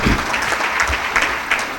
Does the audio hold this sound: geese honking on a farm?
no